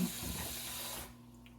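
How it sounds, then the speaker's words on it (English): Tap water runs steadily into a kitchen saucepan during no-bake cookie making, a broad hissing stream that stops abruptly near the end, leaving near silence. "I'm over here putting water in my saucepan so it won't dry out."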